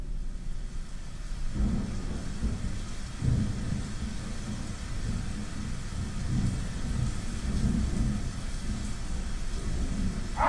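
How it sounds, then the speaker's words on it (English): Steady heavy rain pours through a thunderstorm, with low rumbling thunder rolling beneath a constant wash of falling water, loud and enveloping throughout. "Nasty storm."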